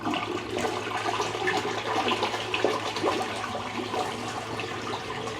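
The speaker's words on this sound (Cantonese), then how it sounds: "咁而家撳沖廁實" A Richford R686 toilet flushes close by, with water rushing and gurgling steadily through the bowl for several seconds over a low hum.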